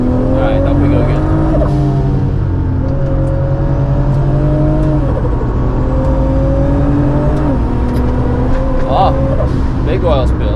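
A Toyota Supra MKIV with 800 horsepower and a ZF8 gearbox swap laps the Nürburgring, its engine droning loud and steady from inside the car, rising and dropping in pitch through shifts, with occasional tire and wind noise and a voice over it.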